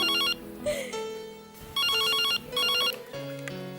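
A telephone rings in repeated bursts of a bright electronic ringtone, loud and close, with short gaps of room sound and background music between the rings in a domestic scene.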